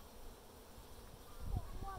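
Honey bees buzz around an open beehive, a faint steady hum with one bee passing close near the end, no talking.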